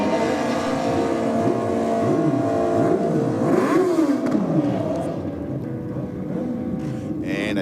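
A Suzuki Hayabusa drag races at Sydney Dragway on bike night, the engine rising through repeated sharp gear-change sweeps before fading away, loud and steady with no talk.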